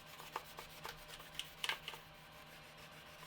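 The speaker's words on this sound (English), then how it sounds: "when you get into these smaller areas, you can use smaller polishing sticks just to tidy up some of these little areas" Small polishing sticks rubbing over a plastic scale model, giving quiet, scattered scratchy strokes with a few brief sharper rasps, close and soft, with no talking.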